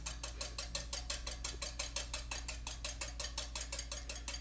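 Eggs are whisked for buttermilk pancake batter, making fast, evenly spaced metallic clicks against the bowl, quiet and steady with no talk.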